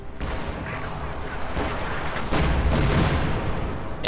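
Tank cannon fire striking the rear armor of a Jagdpanzer during a heavy tank battle in Company of Heroes 2, a dense rumble of booming gunfire and blasts building to a louder burst midway, with faint speech underneath.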